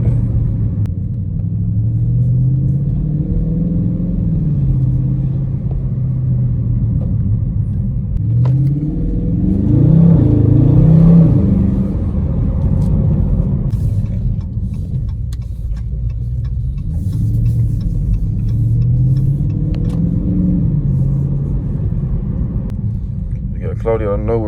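Dodge Charger Scat Pack widebody engine rumbling while driving in the rain, a loud low drone that swells and eases with throttle, with someone talking over it.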